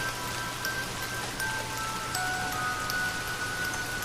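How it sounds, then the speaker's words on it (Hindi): Steady rainfall pattering on surfaces, a continuous even hiss with scattered drop ticks and a low background hum, with no voices. "मुझे नहीं लगता कि ये बारिश रुकेगी।"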